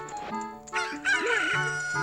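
A cucco, the chicken of the video game Ocarina of Time, gives one loud, close crow with a rising, warbling cock-a-doodle-doo that fills the clip over steady game background music.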